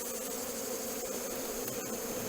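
Honeybees hum steadily around a hive while colonies from several nucleus hives are being united before wintering, a dense continuous buzz close by with no talking.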